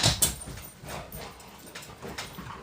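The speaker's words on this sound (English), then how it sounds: "And the scrabbling of feet you hear is my dog." A large Alaskan Malamute–German Shepherd cross scrabbles its nails on a wood floor, a run of quick, scattered clicks and scuffs that keeps going at a moderate distance.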